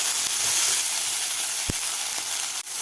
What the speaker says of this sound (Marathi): मटार घातल्यावर सुद्धा आपल्याला थोडंसं भाज्या फ्राय करून घ्यायचं आहे